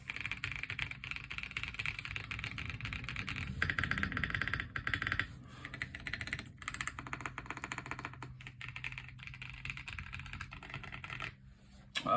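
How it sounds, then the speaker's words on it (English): Steady, fairly quiet typing on a Cycle 7 mechanical keyboard, with rapid, even keystroke clacks close up and no voices. "this is probably the best sounding keyboard that I have currently"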